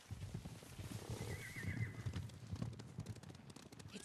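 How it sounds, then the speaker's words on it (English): Horses in the video game Ghost of Tsushima approach with a faint, distant whinny and a soft clip-clop of hooves over a low rumbling background, fairly quiet throughout. "Horses, they're coming for us."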